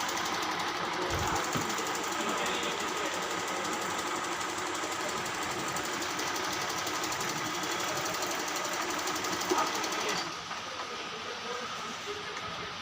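A Janome sewing machine stitching fabric laid over buckram or paper backing, a steady continuous mechanical whir with a fine rapid needle rhythm running close and loud for about ten seconds before easing off.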